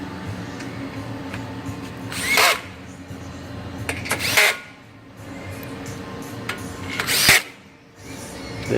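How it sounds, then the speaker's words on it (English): A power driver with a hex head bit tightens screws while a frame is assembled, giving three short whirring bursts spaced a couple of seconds apart over a steady low background hum. "insert them and secure them tightly using your hex head driver"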